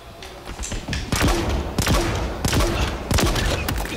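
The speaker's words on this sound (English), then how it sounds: "please stop shooting me" Gunfire in the video game Halo Infinite, a dense string of loud rapid shots and impacts building over a few seconds, close and continuous, no talking.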